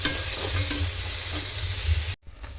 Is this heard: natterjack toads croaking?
no